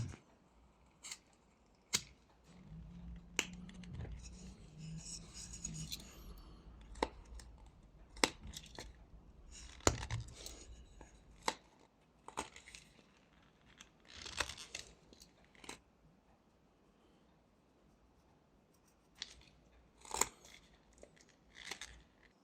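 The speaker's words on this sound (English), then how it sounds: "Now we just need to make a small cut right here." A small knife whittling a sleeping koala from wood, producing sparse, close, dry scraping and snapping cuts, isolated clicks and short shaving strokes separated by quiet pauses, with no talk.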